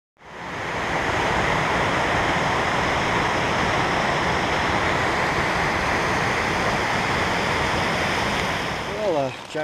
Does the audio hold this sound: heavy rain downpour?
yes